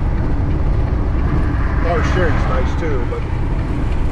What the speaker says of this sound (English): So as long as it keeps idling and I can keep air pressure up